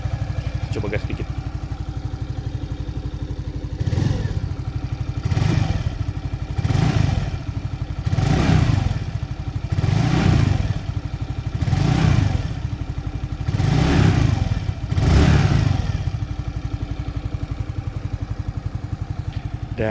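A Suzuki Nex II air-cooled scooter sits idling, then has its throttle blipped about nine times in a regular rhythm, each short rev rising and falling back to the steady close idle.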